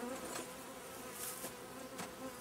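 Honeybees buzzing close around a hive during a swarm inspection with powdered sugar treatment, a steady droning hum with individual bees passing near and away.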